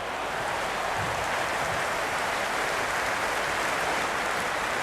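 A dense, steady roar of a large stadium crowd in a cricket video game, loud and unbroken throughout, with no distinct voices standing out.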